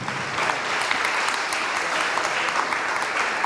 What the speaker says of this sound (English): Let's give them another round of applause, everybody.